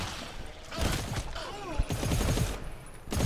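Gunfire in the video game GTFO: a rapid burst of shots with sharp impacts and a brief crash, loud and close, mixed with game effects.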